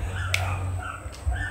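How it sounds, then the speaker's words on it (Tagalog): A guard dog gives two or three faint, distant barks and yips over a steady low hum, with no one speaking. "Pang guard dog na kasi siya."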